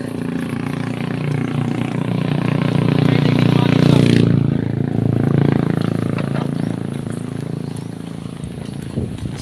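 Strong gusting wind on a windy afternoon roars and buffets across the whole stretch, swelling loudest near the middle before easing slightly, with voices talking over the steady blustery rush.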